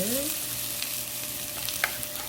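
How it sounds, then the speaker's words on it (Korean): Onions and mushrooms stir-frying in an oiled pan, giving a steady soft sizzle with a few light scraping and tapping sounds from stirring. "양파와 버섯을 넣고 볶아줄 거예요"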